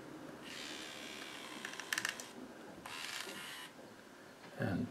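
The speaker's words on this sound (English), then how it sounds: "So I can move the tail like this, and then toggle to the next motor." Small servo motors in a Pleo RB robot dinosaur whir in short bursts as the tail is moved, with a brief clicking and a faint steady background hum between movements.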